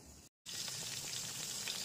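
Pointed gourd (potol) frying in a pan, a steady bright sizzle with faint crackles that runs on after a brief cut to silence at the start.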